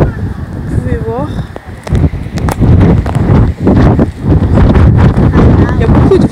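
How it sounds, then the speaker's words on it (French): Strong gusts roar across the microphone on sea cliffs in Ireland, loud buffeting rumble surging and dipping nearly nonstop, with a voice speaking briefly at the start. "Il y a beaucoup de vent."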